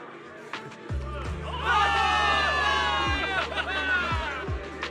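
A video game crowd of soldiers cheers and shouts in Zenless Zone Zero, the roar swelling after a second and holding, with a few heavy thumps underneath.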